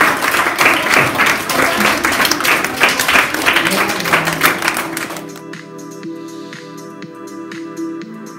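A burst of enthusiastic applause from a group, loud and dense for several seconds, then cutting off abruptly into quiet.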